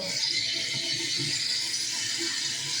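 An outdoor tap runs in a steady, close hiss of flowing water, with no talk over it.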